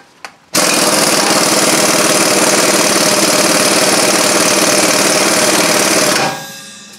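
An impact gun tightens a strut bolt on a 2009 Honda Odyssey front strut, with the wobble extension removed; one long, loud, continuous hammering burst lasting about six seconds, close up and alone, then cutting off.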